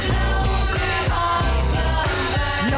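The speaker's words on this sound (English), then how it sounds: "Featuring the remastered album that now sounds like this." A dense excerpt from a remastered album: full band mix with drums, bass, guitars and voices, loud and continuous with rhythmic hits throughout.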